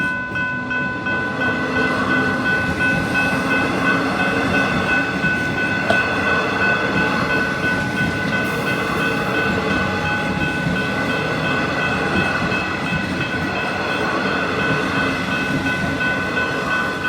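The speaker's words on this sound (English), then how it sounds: "let's check out the train" A train rumbles steadily past on the rails through a cemetery at Fawkner, Melbourne, a continuous loud roar with metallic squeal and hum throughout, no voices.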